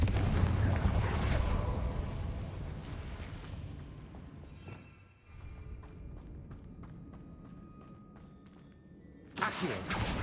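Confringo blasting spell exploding in Hogwarts Legacy, a loud rumbling boom that decays over several seconds, followed by scattered clicking game effects and a sharp new burst at the end.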